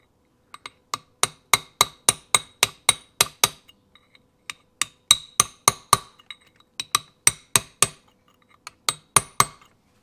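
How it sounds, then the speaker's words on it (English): Metal chisel tapping a washer over on a Yamaha 175 Enduro motorcycle engine's lower end, a run of sharp ringing metallic taps in quick uneven bursts with short pauses, close and clear with no speech. "you can get a chisel there just to try to get it started"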